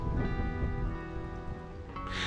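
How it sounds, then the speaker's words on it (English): Steady rain falls on Bakewell Lane in the village of Great Longstone in the Derbyshire Dales countryside, a constant close wash of drops with a faint hum beneath and a brief brighter hiss near the end. "If only it wasn't raining, eh?"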